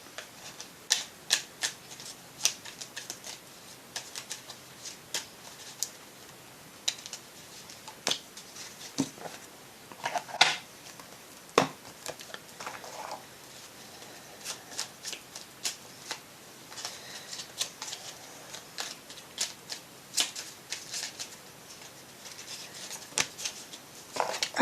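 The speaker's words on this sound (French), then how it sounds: "Je vais prendre une carte de chaque." Oracle cards are shuffled and drawn by hand, a run of soft close flicks, riffles and papery slaps scattered irregularly over about twenty-five quiet seconds, with no talking.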